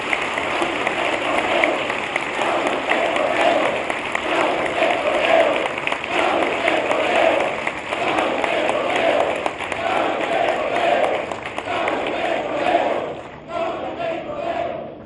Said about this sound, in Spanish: Un aplauso grande a las y los trabajadores de Pemex